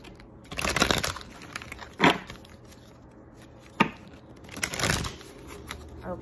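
Tarot cards are shuffled by hand in several short bursts of papery riffling and slapping, close and moderately loud, separated by quieter gaps.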